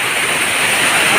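A large waterfall in Nepal sends up a steady, dense roar of rushing water, close and loud, with no voices heard over it.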